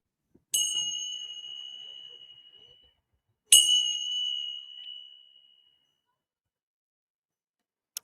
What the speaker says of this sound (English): I would encourage you to close your eyes and open yourself to the frequency from the chimes